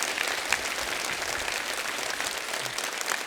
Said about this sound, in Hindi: इन चारों नौजवान सिंगर्स के लिए जोरदार तालियां हो जाए